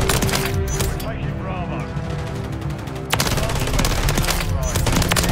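JAK Burnout Kit gun firing in Modern Warfare 3 multiplayer, a dense, nearly nonstop stream of loud rapid shots with a brief drop in the middle, then the heavy firing starts again, with faint speech mixed in.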